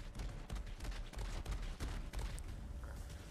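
Rapid bursts of gunfire from the HellShock weapon in Borderlands 3, shots crackling densely and continuously across the whole stretch with brief lulls, loud and close with no talking.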